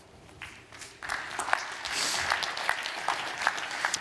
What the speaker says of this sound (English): Please give a warm applause and a welcome